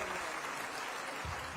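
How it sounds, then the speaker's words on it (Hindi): Applause from an audience honoring award winners at a road safety short film festival, a steady dense clatter of many clapping hands with a low thump near the end. "जोरदार तालियां बजनी चाहिए"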